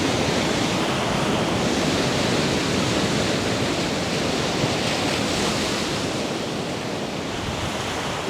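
Ocean waves break on a shore in a continuous wash of dense surf noise, loud and close, with a slight swell partway through and no voices.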